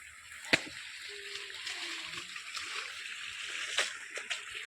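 A child playing in water outdoors, with irregular splashes and sloshing, one sharp slap early and a few more later, fairly faint against a hushed background with a brief voice-like tone.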